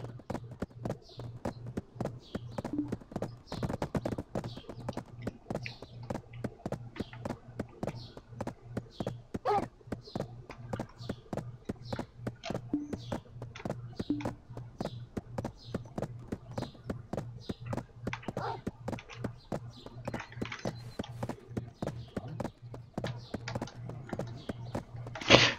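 A horse's hooves clip-clop steadily in the Black Desert Online game, a regular close rhythmic trot with a low hum underneath and no talk.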